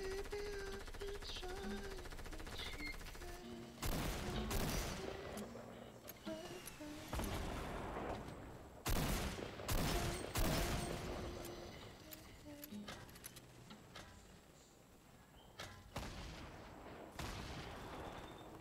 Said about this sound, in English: Shooting right here.